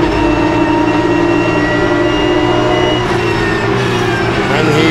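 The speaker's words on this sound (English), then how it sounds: "Waiting for the cars to pass the start-finish line again." Porsche Cup race cars roar past the start-finish line at the Assen TT circuit in a loud, continuous wash of engine noise, with a commentator's voice partly mixed in.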